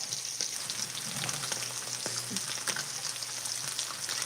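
Potatoes coated in spices fry in a skillet with a constant, crackling sizzle, while scattered clicks and scrapes mark the pieces being turned over, with no talk.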